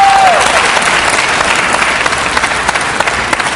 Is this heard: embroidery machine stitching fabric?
no